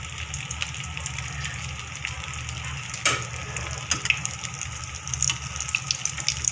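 Something frying in hot cooking oil in a home kitchen, a steady close sizzle and crackle with scattered sharper pops, continuing throughout with no talk.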